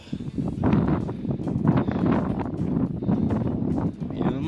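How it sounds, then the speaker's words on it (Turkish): Strong, steady wind on a mountain walk at Atatepe, Artvin, buffeting the microphone with a constant low roar and gusty rumble, loud and close throughout. "inanılmaz bir rüzgar var"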